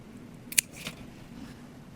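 Sterilized scissors make one quick, sharp snip through a Philodendron Glorious stem just below a node, faint and close against quiet room noise, with no talking.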